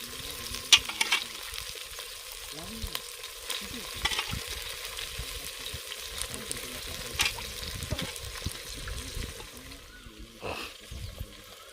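Mutton sizzles and fries in a pan outdoors while being stirred, with scraping and clattering spoon strokes over a steady, fairly quiet crackle that continues throughout.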